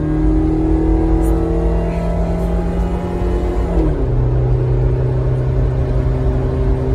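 A 2001 Mazda Bongo van with a 2-liter four-cylinder engine pulls hard at full throttle. The loud, steady engine drone climbs in pitch, dips briefly at a gear change partway through, then keeps rising.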